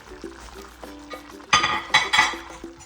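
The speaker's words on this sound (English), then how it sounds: "Make sure to add all those juices on the plate right into the pot." Meat juices from a plate of beef pour into a pot roast pot, with a few light clinks of dish against pot before a louder splashing, scraping pour near the end.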